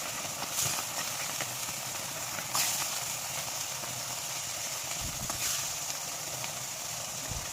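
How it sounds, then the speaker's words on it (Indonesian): Fish frying in hot oil with a spoonful of rice flour added, a steady soft hiss and sizzle throughout, with occasional louder sputters and pops rising over the constant bubbling. "Nah, untuk ikannya ini akan kita goreng hingga matang, cukup hingga berkulit aja"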